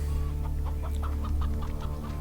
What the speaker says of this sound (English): Oh, the chicken.